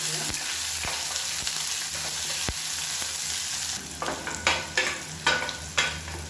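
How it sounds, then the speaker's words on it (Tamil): Onions and tomato sautéing in oil in a pan, a steady sizzle and hiss at first, then a spoon stirring and scraping in several rhythmic strokes over the frying. "இப்போ வெங்காயம் நல்லா வதங்கிடுச்சு"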